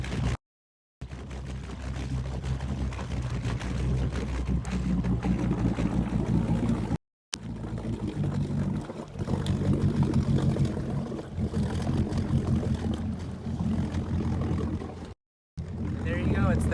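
A boat engine starts up and runs steadily, roaring with a low rumble as the boat is backed off its trailer into the water, with two brief cuts breaking the continuous drone.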